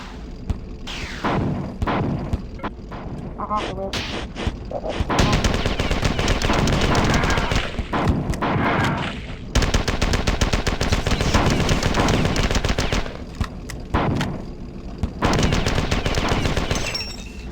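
Rapid assault rifle fire from the Marathon 2 video game comes in long, loud automatic bursts with short pauses between them, dense and close, alongside other game sounds.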